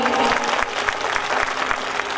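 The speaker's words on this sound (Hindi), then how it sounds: "दोनों हाथ खोल मीट मीट ताली बजा दियो हाँ सब एक बेर।" An audience at a matchmaking introduction gathering claps with both hands in a brisk, close, continuous round of applause lasting a couple of seconds.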